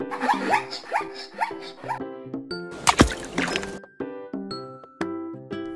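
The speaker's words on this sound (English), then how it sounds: "Zebra." A zebra gives a run of repeated, barking yelps in quick succession, with a brief noisy burst partway through.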